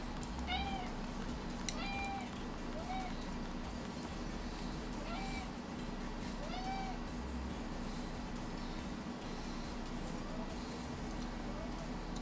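A cat gives a series of short, faint meows at irregular intervals, half-buried under a constant loud background noise.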